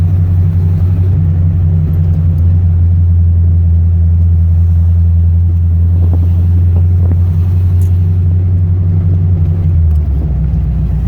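A car cruises through town traffic around the Iowa State University campus, its engine a steady low rumble that holds loud and even for the whole stretch before dropping slightly near the end.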